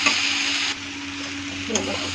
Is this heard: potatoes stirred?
yes